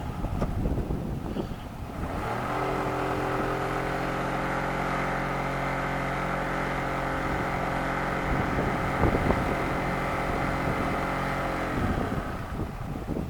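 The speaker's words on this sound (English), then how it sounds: "All right, start her up. Pop it in and forward, give it a little gas." A Yamaha 40hp outboard motor on a lake starts and settles into a steady, loud droning hum with wind buffeting, the pitch holding level under throttle for several seconds before cutting off.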